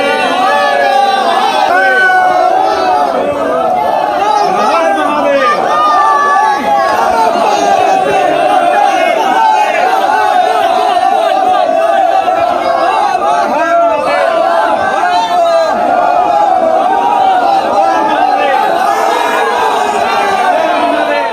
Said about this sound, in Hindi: वाराणसी में देखिए, वहां भक्तों की भारी भीड़ थी, बड़ा सैलाब था